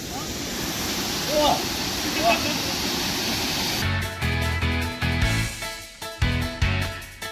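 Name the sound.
waterfall at Linn Falls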